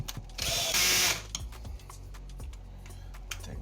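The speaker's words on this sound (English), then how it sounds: "So you just remove the old screws, and screw these back in." Screws being driven back into wood inside a converted school bus: a loud, brief whirring burst from the driver, then quieter ratcheting clicks and ticks close by.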